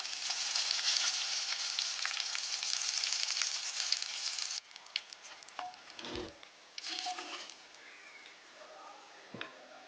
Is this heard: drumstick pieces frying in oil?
yes